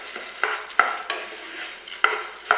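Urad dal dry-roasts in a pan for idli podi while a spoon stirs it. Repeated scraping strokes and sharp metal clinks ring out over a soft steady crackle, close up with no voices.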